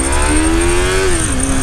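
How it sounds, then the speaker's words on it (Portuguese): A Honda Twister 250 motorcycle accelerates hard nearby, its engine note rising steadily, briefly dipping, then climbing again in one continuous, loud burst with no one talking. "a moto corre pra caramba, mano"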